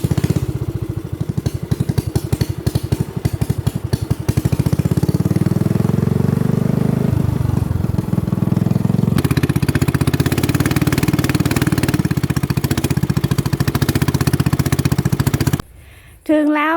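A motor boat's engine drones loudly and steadily as the boat pulls in, with a throbbing low hum that shifts pitch midway, ending abruptly with a brief quiet moment.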